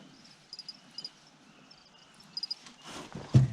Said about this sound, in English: I'm managing to sit here and catch a few crickets as they come out of hiding